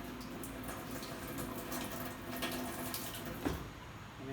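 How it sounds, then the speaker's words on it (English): Water draining out of an indoor garden planter, a faint continuous trickle and gurgle with a small splash or drip near the end, heard alone at close range. "it feels like there's just a lot of water still draining out here"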